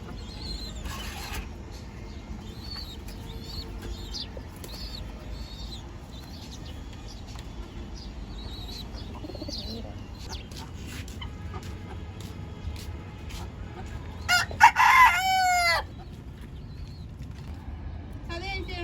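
Chickens on a rooftop garden coop cluck in short, repeated calls at moderate distance, building to a louder, drawn-out crow-like call near the end over a low background hum.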